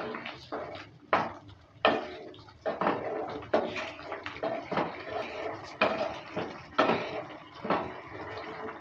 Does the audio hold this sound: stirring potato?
yes